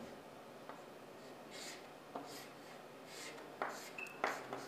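Marker or chalk writing on a board during a database lecture, a few faint scratchy strokes and taps over a quiet room, ending with sharper squeaks and clicks.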